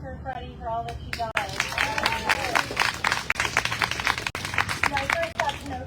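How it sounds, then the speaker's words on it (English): An audience at a Women's Equality Day 2024 event claps steadily for several seconds, a dense close patter of applause with a voice speaking over it. "let's give a clap for Freddie for all that she does."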